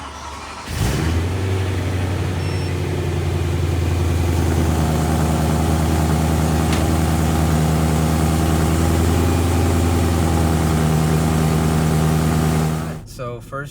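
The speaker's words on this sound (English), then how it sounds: "turn the car on. See how it sounds with the stock cats again." A BMW E92 M3 with stock tune and stock catalytic converters cranks and fires up, then settles into a steady, deep idle for several seconds before the sound cuts off.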